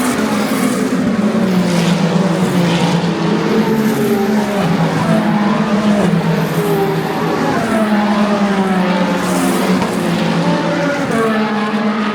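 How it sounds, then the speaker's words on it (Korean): Endurance race cars, including a Ferrari 499P hypercar, roar past nonstop at the Spa-Francorchamps circuit during the 2024 WEC race in Belgium, a loud, dense wash of engines rising and falling as cars pass in quick succession. "쉴틈 없이 차들이 옵니다."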